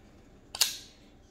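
A Kizer Roach folding knife with Micarta scales snaps open or shut in a single crisp, close metallic click against a quiet background.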